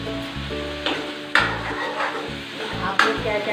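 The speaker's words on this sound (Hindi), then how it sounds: "अभी मैं बना रही हूँ मखनी दाल, जिसकी मैं तड़का तैयार कर रही हूँ" Tadka for makhani dal sizzles steadily in a pan, with a spoon stirring and knocking against the metal now and then, close up and fairly loud, with no voices.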